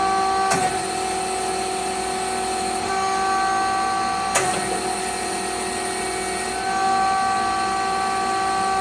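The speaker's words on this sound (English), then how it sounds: "we're going to unclamp the workpiece and reclamp it" A CGF precision chuck unclamps and reclamps a workpiece, giving two sharp clicks about four seconds apart over a steady, loud machine hum.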